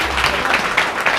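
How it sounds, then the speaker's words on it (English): A short burst of audience applause at a lecture honouring team member Lara Leban, a quick run of evenly spaced claps at moderate volume. "so one applause for her"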